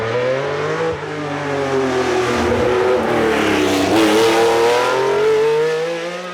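A Ferrari 512M Le Mans prototype engine revs hard and close during a Tour Auto road event, its loud, rasping multi-cylinder note climbing and dipping through several throttle surges over a few seconds.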